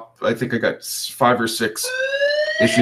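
A building fire alarm sounds a steady electronic tone during fire testing in an apartment building, partly under a man's speech.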